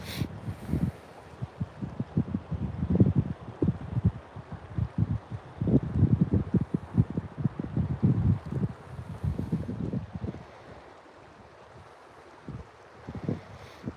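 Gusty wind buffets the microphone outdoors while fly fishing, loud rumbling bursts pulsing irregularly for about ten seconds before easing to a quieter, steadier blow.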